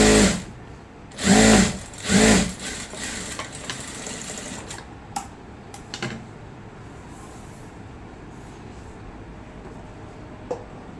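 A sewing machine top-stitches a salwar pant in two loud, close bursts, followed by quieter handling of the fabric and a few scattered clicks.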